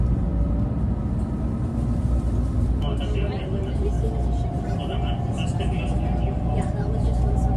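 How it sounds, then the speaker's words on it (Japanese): Steady, loud rumble and hum of a San'yō Shinkansen train in One Piece livery running just after leaving Nishi-Akashi station, with a faint high whine rising partway through. "列車は西明石駅を出発しました"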